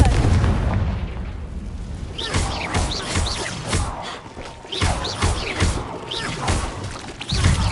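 A Confringo blasting spell detonates in the video game Hogwarts Legacy. Heavy booming blasts and crackling bursts follow one another in a dense, loud cluster. No talk is heard.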